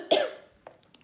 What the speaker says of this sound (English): I covered my cough with my hand.